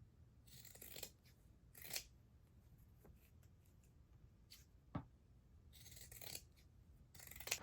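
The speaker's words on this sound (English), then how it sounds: "Now I'm going to trim 3 sides, not the side with the opening." Scissors trim the edges of a sewn fabric jar opener, with several short, crisp snipping bursts separated by quiet handling noises, close but faint.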